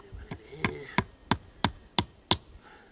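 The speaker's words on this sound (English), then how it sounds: "I didn't have nails, so we'll just hammer some screws." Screws being hammered into a fire log, with seven sharp, evenly spaced strikes ringing out close and loud, plus brief faint voice sounds in between.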